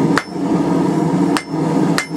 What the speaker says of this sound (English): for doing it on the flat of the anvil face here, it's a lot nicer if you have a hammer with a very rounded face